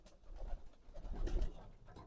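Pigeons coo softly nearby, low throaty burbles rolling one into another.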